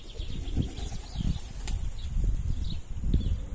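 A tame pigeon being hand-fed flaps its wings close by in a short flurry of soft, muffled beats, with steady low background noise throughout.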